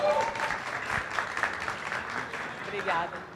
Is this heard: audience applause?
yes